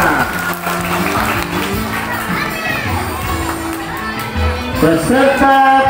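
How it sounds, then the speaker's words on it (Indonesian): Crowd applause for a child in a traditional costume contest at a primary school independence-month celebration in Balung, Tawau, with excited children shouting and chattering loudly all around and music playing beneath. "Oke, tepuk tangan."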